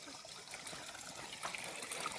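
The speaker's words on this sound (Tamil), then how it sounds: "நான் பார்க்க வந்த தோட்டத்தில் பக்கத்து தோட்டத்தில் தண்ணி போயிட்டுருக்குது." Irrigation water runs through a channel toward a neighbouring farm plot, a soft, continuous trickle and gurgle that is faint and close. Nobody speaks.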